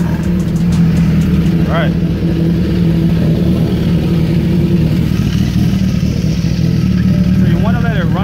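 A 2013 Suzuki GSX-R 1000 sport bike engine idles steadily with a low, constant drone throughout, a brief rev rising near the start and another at the end, while a person speaks briefly over it.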